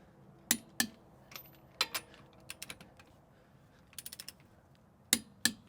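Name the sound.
torque wrench clicking while torquing lug nuts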